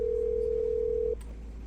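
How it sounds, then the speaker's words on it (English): A telephone dial tone sounds as a man calls his boss, a steady loud single pitch lasting about a second before cutting off abruptly, leaving a low background hum. "He picked up his phone, called his boss"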